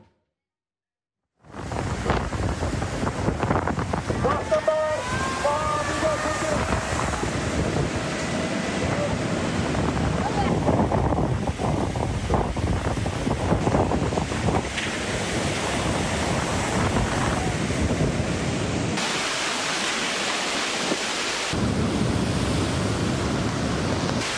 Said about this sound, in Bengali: পূর্ণ শক্তি নিয়ে দেশের উপকূলে ঝড়ের অগ্রভাগ এগিয়ে আসছে। বয়ে যাচ্ছে দমকা ঝড়ো হাওয়া।